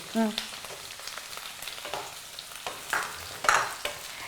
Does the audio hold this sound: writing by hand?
no